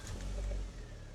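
A VW Golf GTI hot hatch engine, very low on fuel, catches and revs once with a swelling mid-range roar that peaks and then settles back toward a steady idle, close by.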